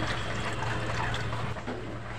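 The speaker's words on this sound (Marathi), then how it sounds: "मी एका पॅनमध्ये पाणी घालत आहे अंडी उकळवण्यासाठी" Water pouring into a pan for boiling eggs in a home kitchen, a steady close rushing splash that runs unbroken for about two seconds with no voices.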